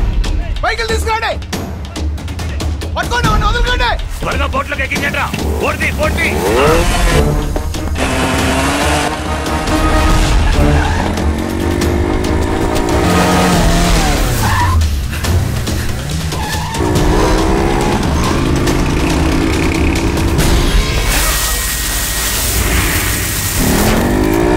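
Vehicles racing in a chase, with engines revving and tyres skidding and squealing in loud bursts, mixed with shouting voices and dramatic commotion throughout.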